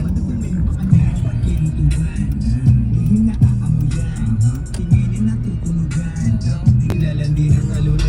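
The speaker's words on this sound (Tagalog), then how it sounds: "Ito sa Arja talaga, ganyan yung traffic." Steady engine hum and passing car noise in heavy road traffic in Dubai, heard from inside a vehicle, with people talking over it.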